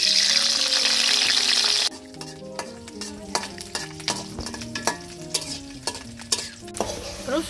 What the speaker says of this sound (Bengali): রসুন ভাজা শেষ, এখন উঠে নিব।